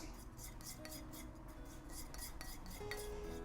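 Red and orange paint mixed on a palette, heard as a steady close scraping and tapping of a knife or brush against a hard surface, fairly faint and rhythmic with no talking.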